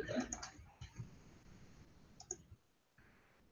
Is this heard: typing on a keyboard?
yes